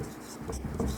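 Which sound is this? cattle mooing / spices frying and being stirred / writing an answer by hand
writing an answer by hand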